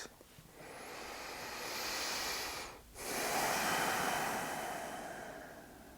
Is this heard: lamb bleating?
no